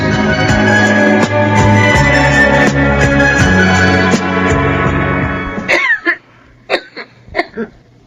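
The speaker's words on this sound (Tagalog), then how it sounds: "Kanina ka pa ubo ng ubo ah." Music plays for several seconds in a Filipino radio drama, then cuts out, followed by a few short, harsh coughs close by.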